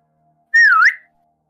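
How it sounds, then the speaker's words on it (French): A person gives a single short, loud whistle to call a dog, rising and then dipping in pitch for about half a second in otherwise silent surroundings. "Je siffle pour l'appeler, pour voir s'il réagit ou pas."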